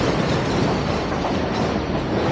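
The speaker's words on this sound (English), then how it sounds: "We're right underneath the 7 train" A 7 train rumbles overhead on an elevated track above Roosevelt Avenue in Queens, a loud, steady roar with clattering wheels filling the whole stretch, no voices.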